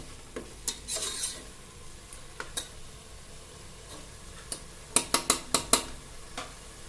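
Mushroom biryani masala sautéing in a pan while a spoon stirs it, with a steady low sizzle broken by sharp scraping and clinking strokes, the last several coming in a quick rhythmic burst.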